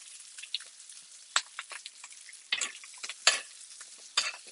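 Butter sizzling and spitting in a hot pan as it is spooned over the food, with irregular crackles and pops close up and no voices.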